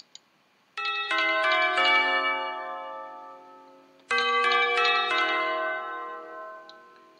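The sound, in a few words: bell tune sound sample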